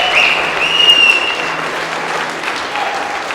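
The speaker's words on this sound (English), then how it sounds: "let's make some noise for our customers" A crowd at a Hyundai dealership giveaway event applauds and cheers, dense clapping that swells early and then carries on steadily at close range for a few seconds.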